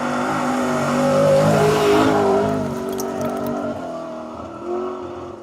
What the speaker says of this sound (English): The beautiful TR7 V8 of Mark Higgins and Carl Williamson.